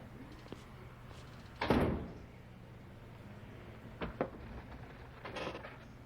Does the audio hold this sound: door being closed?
yes